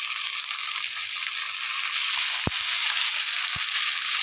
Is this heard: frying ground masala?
yes